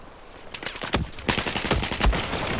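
Rapid machine gun fire from an M249 and other guns in Battlefield 4, loud bursts of automatic shots crackling close and overlapping in quick volleys from several directions, no talking.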